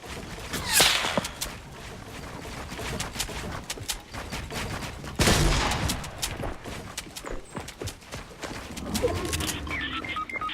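Gunfire crackles in a multiplayer shooter video game, with scattered distant shots, a few sharper nearby bursts and footsteps over ambient game noise, under quiet player chatter.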